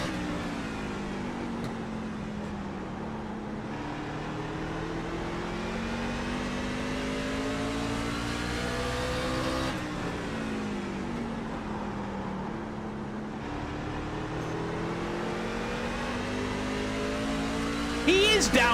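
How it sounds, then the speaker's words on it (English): Race car engine in an iRacing eNASCAR round at Richmond Raceway, a steady droning whine whose pitch climbs and drops as the car shifts through gears, continuous and close for the full stretch. "He is downshifting."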